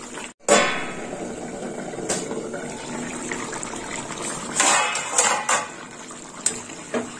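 A metal lid set down on a cooking pot of cabbage and poppy-seed curry, a sharp clang at the start followed by a steady simmering hiss and a few light knocks, close by.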